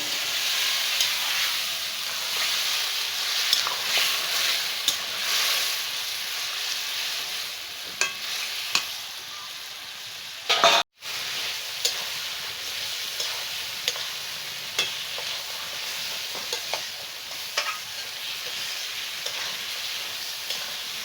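Mutton being sautéed with a spiced gravy in a village kitchen, a steady moderate sizzle with regular ticks of stirring and one brief dropout midway, no one speaking.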